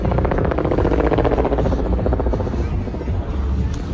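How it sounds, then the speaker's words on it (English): A helicopter's rotor chops steadily and loudly overhead, a constant pulsing drone filling the whole clip with no pause. "I've been hearing a lot of helicopters recently"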